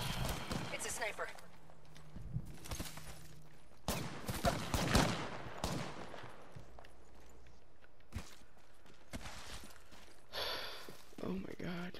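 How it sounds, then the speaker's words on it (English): Sniper fire in a video game rings out as a few sharp, scattered shots amid footsteps and other game sounds, with a player speaking over the action. "It's a sniper."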